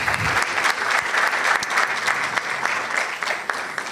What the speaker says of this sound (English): All right, a round of applause for Mr. Fertechi, please.